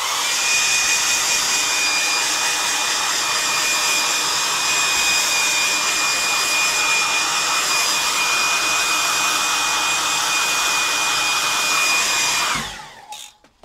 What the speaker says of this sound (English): I'm just going to make sure it's absolutely dry with my hairdryer